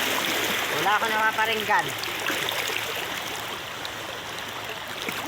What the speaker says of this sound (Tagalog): malakas ang agos din eh